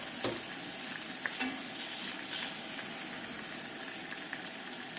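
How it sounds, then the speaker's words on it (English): Fat browns in a pan on a Coleman camp stove, a constant close sizzle with faint scattered pops and no voices. "See how that fat is browning?"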